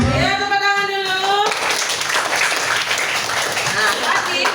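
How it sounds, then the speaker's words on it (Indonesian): Primary-school children applauding in a classroom: a dense burst of many small hands clapping together, steady and fairly loud for a few seconds, coming after a brief voice. "Iya, tepuk tangan dulu."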